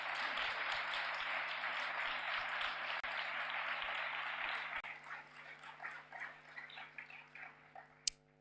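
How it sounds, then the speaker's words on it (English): An audience at the SimWars final gives both teams a round of applause, dense steady clapping that thins into scattered claps and ends with a sharp ping, under a faint constant electrical hum. "Can I ask you all one more time to give a big round of applause to both teams"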